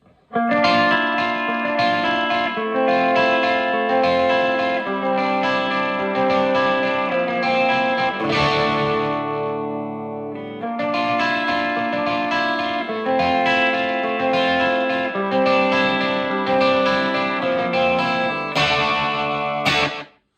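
Electric guitar through a Behringer SF300 plays a steady melodic line with a short, quick slapback echo doubling each note, continuous and fairly loud with a brief dip midway.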